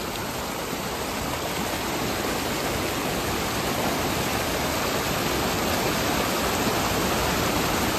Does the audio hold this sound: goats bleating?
no